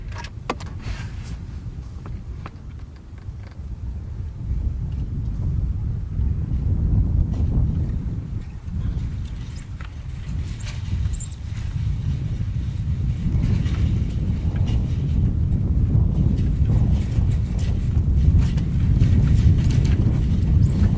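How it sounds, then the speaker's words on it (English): Strong wind blows outdoors past a shade net overhead, a constant low rumbling roar buffeting the microphone close up, with gusts swelling and easing over twenty seconds and no voices. "Maybe you guys can see the wind blowing this shade net up here."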